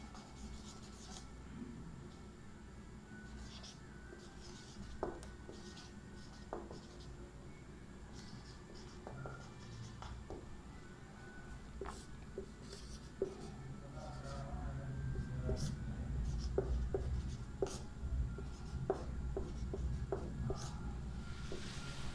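A teacher writes notes on a board during a reasoning class, with steady scratching and rubbing strokes and occasional taps, close and moderately quiet, over a low background hum and faint room noise.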